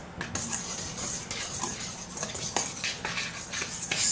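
Sifted salt and baking soda are mixed in a bowl for red velvet cookies, giving a steady run of light scraping and clinking from a utensil against the bowl, fairly close, with small accents throughout.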